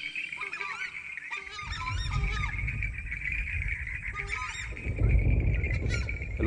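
Hens squawking and cackling in loud, repeated harsh calls over a rumbling low background noise, with the clucking bursts clustered at the start and again midway.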